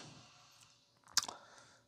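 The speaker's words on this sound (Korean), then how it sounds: "목탁이죠." A single hollow knock from a moktak wooden block sample played on a Casio MZ-X500 keyboard pad, one short, fairly quiet strike partway through an otherwise near-silent stretch.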